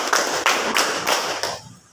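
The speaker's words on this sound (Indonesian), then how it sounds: "Namanya breakingnya adalah tepuk irama" A handful of separate hand claps in a steady rhythm, about four sharp claps spaced roughly evenly in a classroom clapping game, close and fairly loud, with the last one fading into a quiet room.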